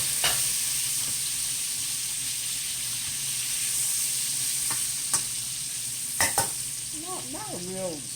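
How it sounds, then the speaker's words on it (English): Two medium onions sautéing in a pan, a steady frying sizzle and hiss running throughout with a few scrapes of stirring, and a short whistling tone near the end. "We're going to let them saute up a little bit"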